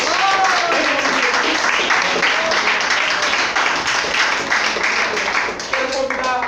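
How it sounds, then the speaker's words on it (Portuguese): A church congregation claps through a fervent evangelical service, a dense, loud patter running steadily throughout with voices shouting over it. "Você pode aplaudir o Senhor nessa noite."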